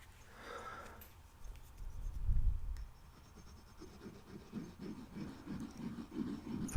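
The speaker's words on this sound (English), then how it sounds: "Let's write a little note." A pen scratches softly across notepad paper in short, irregular strokes, close and quiet, with a brief low rustle partway through.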